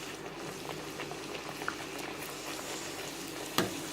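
Puffed puri fry in hot sesame oil, a soft steady bubbling sizzle with light crackles and one sharper pop near the end.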